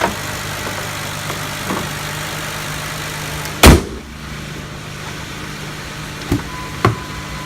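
A 2008 Mercury Milan's engine idles in a low, even hum, with a sharp thump near the middle and a couple of lighter knocks later, like a door.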